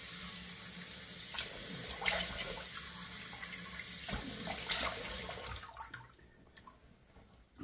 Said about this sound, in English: let me pause while I put two splashes of cold water on the face here